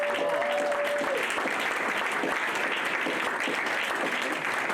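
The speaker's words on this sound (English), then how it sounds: "So please give her a warm round of applause." Steady audience applause, many hands clapping together at an even, sustained level throughout.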